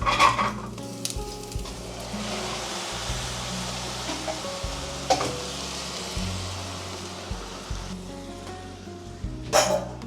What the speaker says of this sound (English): I'm going to add some of the meat stock.